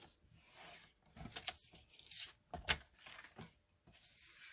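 A blade cuts through card paper along a center line, making short scratchy slicing strokes. The sounds come close and quiet in a few separate bursts with brief pauses between them.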